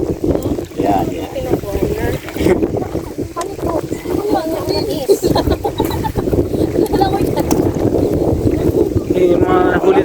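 A boat being pushed by hand sloshes through water with steady wind noise, while people talk over it in Filipino throughout.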